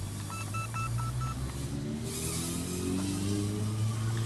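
A TX Juice pocket drone lifts off and flies with a loud, steady motor whine and a rising pitch, while a controller beeps in short tones near the start.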